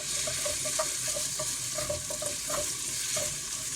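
Onions being stirred in a pot of mutton biryani, Kerala style: a loud, continuous sizzle with repeated rhythmic scraping strokes of the spoon, close and without talk.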